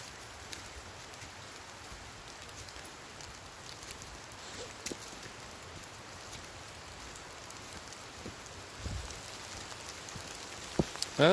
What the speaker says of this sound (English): now we're getting some serious rain on us